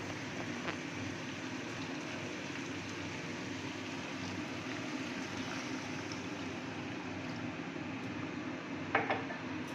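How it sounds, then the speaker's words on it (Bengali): About two cups of water pour steadily into a cooking pot as a continuous rushing splash, ending with a brief metallic clank. No voices. "এবার আমি জল দিয়ে দেবো।"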